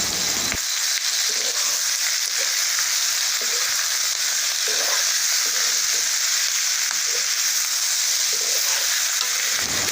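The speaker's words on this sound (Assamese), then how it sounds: "মাংস বনালে নহয় খুব বেছি ভাজিব লাগে" Meat frying and being stirred over a fire, with a steady, loud broadband sizzle running throughout and repeated scraping stirs across the pan, no talking.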